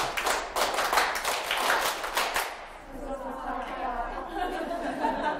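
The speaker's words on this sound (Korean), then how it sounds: "다시 한번 박수 치고 해보겠습니다" Audience clapping together in unison at a Korean exam-prep strategy seminar, a burst of loud rhythmic claps for about two and a half seconds, then fading into crowd murmur and a voice talking.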